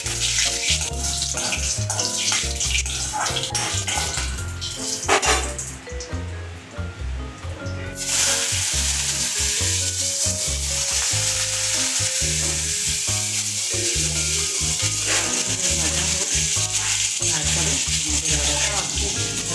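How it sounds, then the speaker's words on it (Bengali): Potatoes sizzle steadily in hot oil in a pan seasoned with bay leaf and dried red chillies for a vegetarian ghugni, a loud continuous frying hiss with stirring clatter and a brief quieter dip midway. "তারপর আমি আলুগুলো ভাজতে দিয়ে দিলাম"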